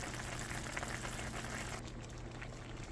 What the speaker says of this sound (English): the potatoes could be in the center where most of the heat is, so they can boil and cook